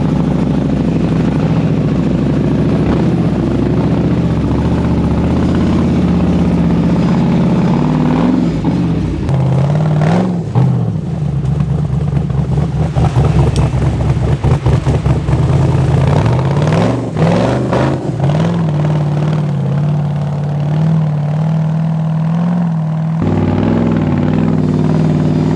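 Rock bouncer off-road vehicle engine revving and labouring as it climbs over a stump on a farm, a loud, steady mid-pitched drone that surges and strains in the middle before settling back to an even idle.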